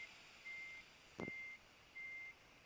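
A truck stuck in reverse gear gives steady reversing beeps: three long, evenly spaced electronic tones, faint and distant over a low background hum, with a brief sharp knock between the first two.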